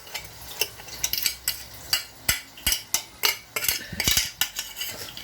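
Cooked wasawasa, a Northern Ghanaian dish, being moved from pot to bowl in a home kitchen, heard as a run of sharp scraping and clinking utensil taps, irregular and close, with no talking.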